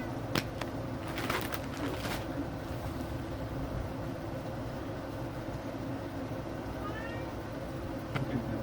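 A pet cat meows indoors, several short mid-pitched calls early on followed by a faint later one, all over a steady hum of room noise with outdoor birds and a low rumble behind it.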